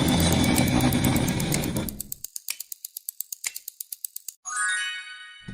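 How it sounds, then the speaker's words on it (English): A chair dragged across a stone floor, starting as a loud, rough scrape and then breaking into a rapid series of juddering clicks before ending with a short, bright squeal. "It was a chair being dragged."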